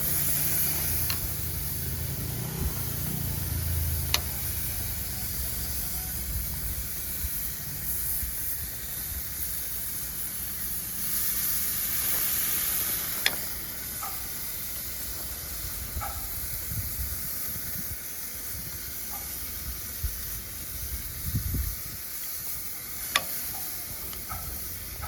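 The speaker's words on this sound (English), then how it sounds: "sear it on one side for like 2 or 3 minutes" Marinated chicken searing on a grill, a steady broad sizzle and hiss that runs unbroken for the whole stretch, with a few sharp clicks and faint shifting sounds above it.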